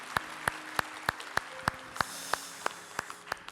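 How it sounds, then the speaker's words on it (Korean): A church congregation at a newcomers' service gives a welcoming round of applause, heard as a slow, even series of distinct claps about a third of a second apart, fairly faint, with a low held tone underneath. "우리 서로에게 환영의 박수 한번 하겠습니다"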